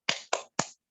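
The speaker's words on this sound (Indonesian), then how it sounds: "Tepuk semangat." Three sharp, close claps in quick succession make up a children's 'tepuk semangat' clapping cheer from a fifth-grade class on a Zoom call. Each clap stands alone with a short gap after it.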